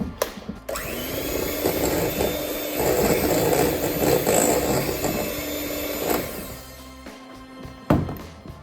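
Electric beaters whir continuously as they whisk egg yolks into melted chocolate for a chocolate mousse, a close, steady motor drone that wavers slightly in pitch before cutting off, followed by a couple of knocks against the bowl.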